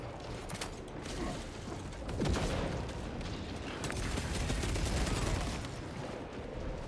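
Cannon fire in the Space Marine 2 video game, a sustained, loud, rumbling barrage of blasts and mechanical clanking that swells and rolls on for about seven seconds with no voices.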